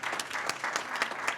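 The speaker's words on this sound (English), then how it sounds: "Maybe applause." Short burst of light applause from a modest audience at a county supervisor candidate forum, honoring the Lookout Santa Cruz staff, fairly quiet with a few distinct claps standing out.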